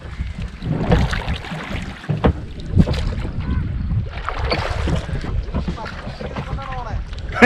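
A boat ride on the water near Valanthakadu Island, with steady engine and water rumble and heavy wind buffeting the microphone, while people talk over it.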